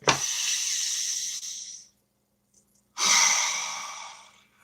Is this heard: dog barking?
no